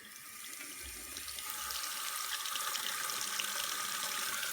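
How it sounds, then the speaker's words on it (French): Hot water runs from a tap into a sink for rinsing hands, a steady close hiss and splash that grows slightly fuller partway through and continues evenly with no talk. "je vais aller rincer avec de l'eau chaude et du savon"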